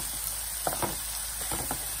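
Onion and ginger garlic paste frying in a pan while making moong dal kachori, a steady soft sizzle with a few louder bursts of bubbling and stirring, close and unaccompanied by talk.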